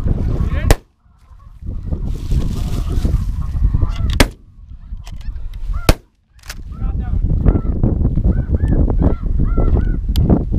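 Snow geese honk loudly and repeatedly during a goose hunt in Illinois, a dense flock chorus broken by several sharp, close shotgun blasts. Faint voices sit under the calls.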